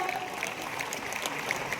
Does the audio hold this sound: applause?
yes